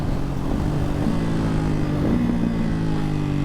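A Ducati Hypermotard 698 Mono with a Termignoni exhaust accelerates, its single-cylinder engine giving a loud, steady, close drone that climbs in pitch partway through, with no talking over it.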